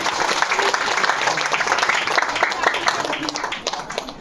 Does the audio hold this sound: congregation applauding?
yes